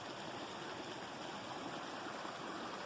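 A mountain creek flows nearby at a lakeside campsite in Colorado, a steady, dense rush of water with constant babbling and no breaks or voices.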